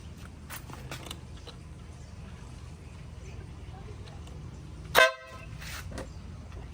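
A single short, loud blast from a compact car horn, sharp and nasal, cutting through quiet background noise and brief talk.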